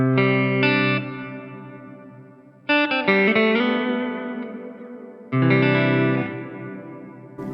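Line 6 POD Go Dynamic Hall reverb at stock settings on guitar: three strummed chords ring out in turn, each swelling into a long, lush hall tail that fades slowly, loud and alone with no talk.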